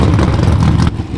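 A drag racing car launches down the strip at a street car takeover event, a loud, dense engine roar that holds steady and then drops off abruptly near the end.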